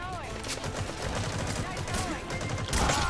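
Rapid gunfire from a match in the online shooter Metal Gear Online, dense bursts of shots and impacts rattling continuously at close range, with a louder burst near the end.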